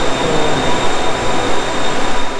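A Bangkok Metro Blue Line train pulling into a station: a loud, steady rumble of wheels and carriages with a thin, high electric whine running through it. No voices are heard.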